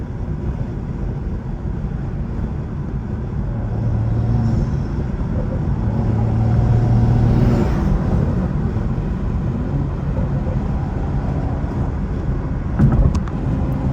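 A car with a stock-turbo N55 engine, downpipe and new exhaust drives along, its steady exhaust drone and road rumble loud and near, rising in a long pull midway with no talking.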